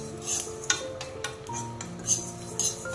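Spices for a carrot and radish pickle being stirred in a pan, with light metallic clinks and scrapes of a utensil against the pan over a faint background hum.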